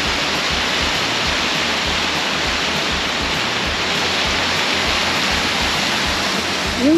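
Water rushes steadily from a man-made dam at a mountain resort, heard from a bridge as a loud, continuous broadband roar that stays unbroken throughout, with no voices.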